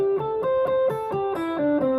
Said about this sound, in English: if you were to play that scale and pick every note